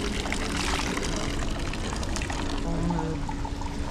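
Hot mineral spring water at Karlovy Vary pouring and splashing in a continuous close rush, with faint background noise and no clear speech.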